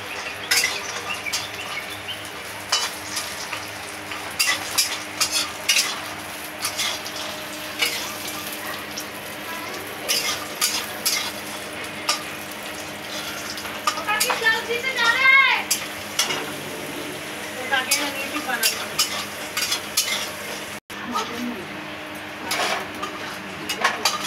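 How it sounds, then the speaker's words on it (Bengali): Lentil dumplings (bori) and potatoes fry in oil for a Bengali fish curry, a steady crackling sizzle broken by occasional stirring clinks and scrapes throughout. "আমি মাছের সাথে বড়ি আলু ভেজে নিয়েছি লাল লাল করে"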